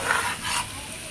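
Masala-coated pasta being stirred and tossed in a hot pan, a soft continuous scraping and light sizzle running steadily through the short moment, close and fairly quiet.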